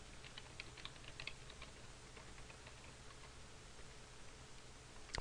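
Typing on a computer keyboard while entering data into an Excel 2010 spreadsheet, heard as a faint run of quick, light key clicks in an irregular rhythm over a quiet room hum, with no one talking.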